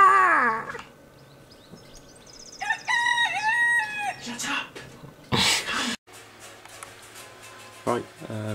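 A cockerel crows loudly nearby with a long, wavering call, amid other fowl sounds and brief louder bursts, while people talk.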